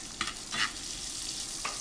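Picanha steak with its fat cap searing in a pan, a steady close sizzle with a few brief spatter pops, no voices.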